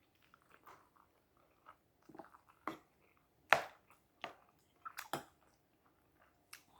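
Someone eating green curry chicken with kohlrabi, with scattered close crunchy bites and chewing clicks separated by quiet pauses, no talk.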